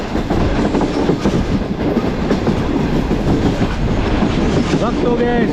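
Karakoram Express passenger train slowing as it nears a railway station in Pakistan, a steady loud rumble of wheels and carriages with rhythmic clatter and a brief squealing tone near the end.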